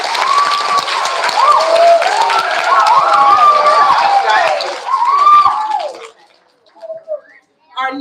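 Applause from an elementary school awards assembly audience for kindergarten and first-grade A honor roll students, a steady loud wash of clapping with voices and children talking over it, fading out near the end.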